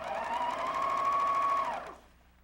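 Sewing machine stitching a quilt seam, a fast, steady motor whir with a rising whine, running close and clear for under two seconds and then stopping.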